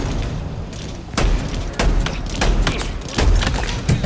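Thudding explosions and impacts in the Halo Infinite video game sound loud and close, with several sharp booms and bursts over a busy game soundscape.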